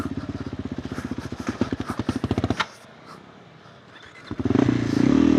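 A KTM 390 Adventure R single-cylinder motorcycle with a Norifumi Whoops exhaust, loud and close, putters in rapid even pulses, cuts out to a near-silent lull, then restarts into a strong steady drone.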